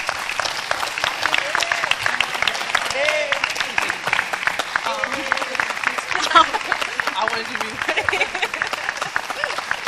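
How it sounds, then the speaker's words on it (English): A seated audience at a student panel session on race, faith and justice gives the panelists a sustained round of applause, dense even clapping lasting about ten seconds with some voices underneath. "can you give a round of applause for the panelists?"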